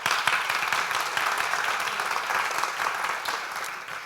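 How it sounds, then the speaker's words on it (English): An audience at a summit's afternoon session breaks into dense, sustained applause, many hands clapping together in a steady wash that fades slightly toward the end. "A big applause for them,"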